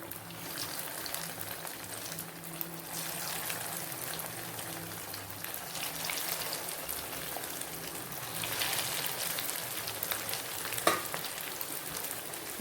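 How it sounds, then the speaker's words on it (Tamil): Chicken cutlets frying in hot oil in a pan, a steady close crackle and sizzle that runs throughout with little change, a few louder pops near the end and no voices. "இப்போ ஒன்றொன்னா போட்டு பொரிச்சு எடுத்துக்கலாம்."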